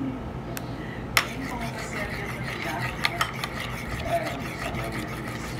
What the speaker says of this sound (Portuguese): batendo a maionese